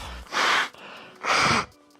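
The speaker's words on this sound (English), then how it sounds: "hopefully blow my nose" Someone blows their nose twice, two forceful breathy bursts about a second apart, close and loud, separated by brief quiet.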